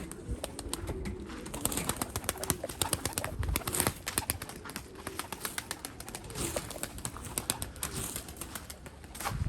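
A flock of pigeons being flown in training, wings clattering in dense bursts with occasional soft cooing, a busy, continuous flutter close by with no speech.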